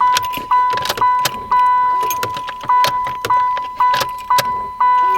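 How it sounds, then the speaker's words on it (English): A car, a Pontiac Trans Am with an LT1 engine, gives sharp repeated clicks at an uneven rhythm, heard close and alone against a steady high electrical tone, matching its fuel pump. "And feel it clicking, and I can hear the fuel pump."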